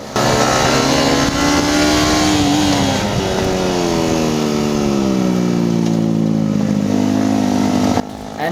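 Racing motorcycles on a race track, among them a Hyosung GT250R and a Yamaha R15, accelerate hard and close, a loud sustained engine whine climbing and shifting in pitch as the bikes pull away.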